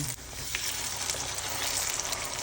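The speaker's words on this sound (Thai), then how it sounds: "น้ำมันร้อนแล้วเราก็ทอดได้เลยนะคะ" Batter-coated pork belly frying in hot lard, a dense, continuous crackling sizzle heard up close and alone.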